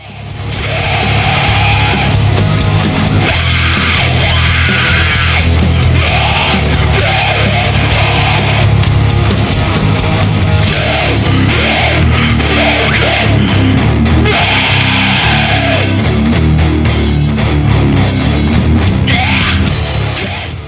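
A song by a DIY hardcore band plays loud and dense throughout, with distorted guitars, pounding drums and bass, and shouted vocals over a slow, steady groove.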